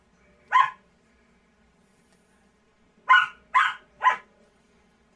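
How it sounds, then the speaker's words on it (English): A husky gives a single short bark-like yip, then after a pause three more in quick succession, close and fairly loud against a quiet room. "I can hear him growling at you."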